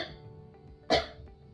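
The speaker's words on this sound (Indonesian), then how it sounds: "Batukan." A patient gives one forceful cough on cue during a deep-breathing and effective-coughing exercise. The cough is brief and close against a quiet room.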